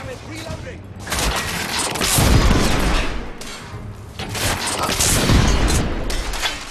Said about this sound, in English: We are witnessing heavy artillery fire at the moment.